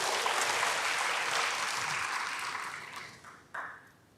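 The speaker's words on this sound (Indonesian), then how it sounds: "Yang setuju dengan saya berikan tepuk tangan bagi Tuhan." A church congregation breaks into loud, sustained applause for God, a dense wash of clapping that slowly fades, then one last sharp clap near the end.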